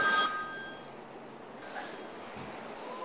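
A mobile phone rings with a brief electronic ringtone, its bright repeated tones sounding fairly faint over a quiet room hiss before fading out.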